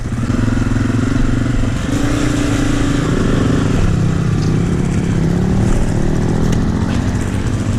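A Honda CRF250F dirt bike rides a trail. Its engine drones loud and close throughout, with shifting pitch as the rider changes speed and a rough, rattling clatter, and no talk is heard.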